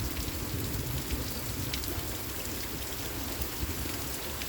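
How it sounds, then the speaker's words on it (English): Heavy rain pours steadily through a thunderstorm, a dense, continuous hiss and patter filling the whole stretch with no voices, loud and close throughout. "It freaking struck lightning and then it rained harder."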